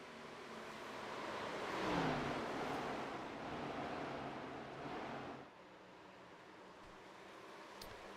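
A Budweiser Chevrolet Camaro racing car engine in a racing video game at Homestead-Miami, a faint, washy roar that swells and rises in pitch as the car passes, then drops away to a quieter steady hiss.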